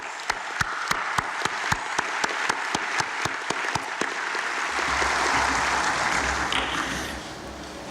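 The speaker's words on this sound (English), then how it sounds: "please join me in a round of applause to celebrate our newest members of the teaching fraternity" Audience applause at a teachers' investiture ceremony, a dense sustained clapping from a large crowd with sharper individual claps standing out early, holding steady for the whole stretch with no talking over it.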